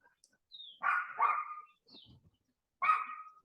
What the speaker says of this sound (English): Excuse my neighbor's dog.